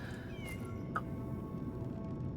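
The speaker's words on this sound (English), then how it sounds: "I hear the cat." A cat meows in the video game Lies of P: a couple of short, clear meows over a steady, low game ambience, with no talking.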